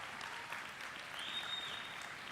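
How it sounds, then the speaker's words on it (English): Brief, steady applause from a crowd at a high school graduation, fairly soft and even throughout, with no voices standing out. "Go ahead and clap."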